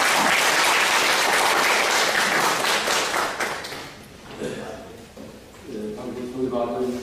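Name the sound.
audience applause welcoming lecturer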